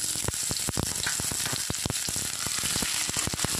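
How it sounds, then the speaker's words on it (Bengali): Whole dried chili, cumin, cinnamon and cloves frying in oil for a Bengali katla fish curry, a loud dense crackling sizzle with rapid popping bursts throughout, close and alone. "এটা দেওয়ার পরে খুব ভালোভাবে একটু লাল করে ভেজে নিতে হবে।"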